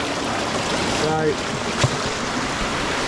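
A waterfall in rugged mountain hunting country roars as a steady, broad wash of rushing water, with wind buffeting and a brief spoken word over it.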